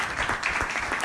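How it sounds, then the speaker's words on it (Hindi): Audience at a Vedic astrology masterclass clapping together in a steady, dense burst of applause, moderately loud and continuous with no voices on top. "इसने जो सीखा है उसके लिए तो ताली होनी चाहिए"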